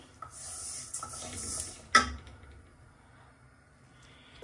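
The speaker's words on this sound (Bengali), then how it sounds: "ডালটা ভেজে নিতেছি আগে ভাইজা, তারপরে রান্নাটা করি।" Mash kalai dal frying in a pot gives a faint, bright sizzle for about two seconds, then a single sharp clatter of utensil on metal before quieter stirring.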